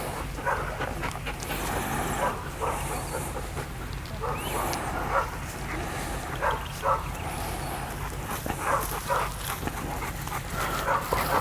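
A reactive dog barks, yips and whines repeatedly in a steady, agitated stream, close and fairly loud over constant outdoor background noise.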